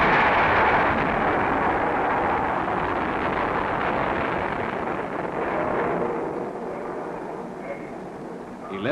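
Guided missile launch at the Woomera weapons test range in Australia: a loud, sustained broadband roar that holds steady for several seconds and then slowly eases, rough and rumbling throughout.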